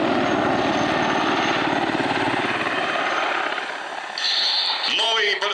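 A military helicopter with composite rotor blades at the MAKS-2021 air show gives off a steady, loud, rapid rotor thump that eases slightly before a sharp, higher-pitched whine appears near the end.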